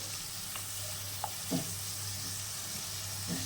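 Bhola fish curry with poppy seed paste and water stir-frying in a pan, a steady sizzle with a few scraping spoon strokes on top.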